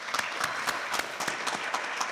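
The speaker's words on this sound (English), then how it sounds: "I'd like to give you a round of applause." Audience applause at a high school athletic Hall of Fame induction ceremony, steady dense clapping with sharp individual claps standing out, fairly close and filling the room without any talk over it.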